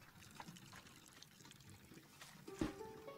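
Water poured onto a plant in the puzzle game Botany Manor, a soft trickle and splash running quietly for about three seconds with a brief brighter gush near the end.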